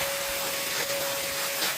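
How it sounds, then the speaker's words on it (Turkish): A household vacuum cleaner running during home cleaning, a close, steady whooshing roar with a thin constant whine over it, unbroken and alone with no talking. "İyi ki bu süpürge var ya."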